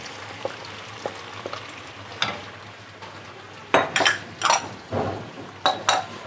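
Boiled minced meat with its stock fries on a tawa griddle with a steady low sizzle, while a spatula scrapes and clinks against the metal in sharp, irregular strokes that grow louder toward the end.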